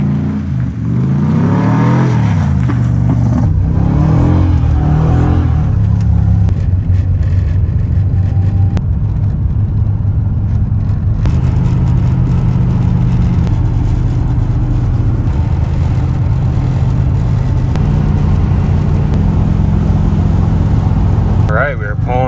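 A camper van rolls into an icy, nearly empty truck stop in winter, its engine rumbling and shifting through gears continuously and loudly up close, with a voice talking over the drive.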